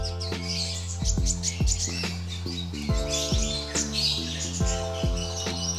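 A brown-chested jungle flycatcher sings close by, giving a quick run of bright, varied whistled phrases and sharp chirps repeated in rapid succession, clear and alone.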